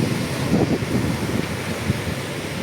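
Rough wind buffets the microphone over a churning wash of surf during Typhoon Ramil at Dinahican, Infanta, Quezon, a continuous blustery roar with no voices.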